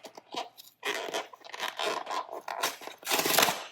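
A cardboard subscription box of tea is torn open by hand, with several close, loud bursts of ripping and crinkling and brief pauses between tugs.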